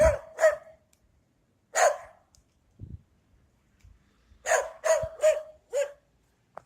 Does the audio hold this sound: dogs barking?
yes